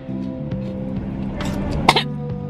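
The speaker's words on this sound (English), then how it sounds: "It still make me cough though." A single short cough bursts out near the end amid a steady low hum and faint background noise.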